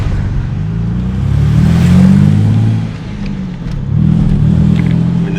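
A Ford Falcon EF XR6 barn find with a T5 manual gearbox drives along, its engine humming loud and close, rising in revs, easing off briefly, then pulling again.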